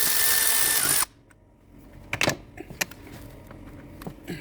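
A power tool whirs loudly for about a second while removing valve cover nuts on a Jeep Cherokee XJ 4.0 six-cylinder engine, then stops, followed by scattered clinks and knocks of tools and parts.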